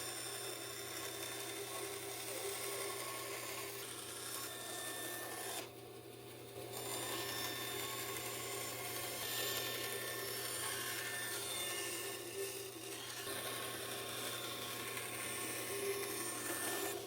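Steady close rasping and sawing on wood as an inlay piece is cut out for an end grain cutting board bearing a Harley logo, continuous for most of the stretch with two brief dips in intensity.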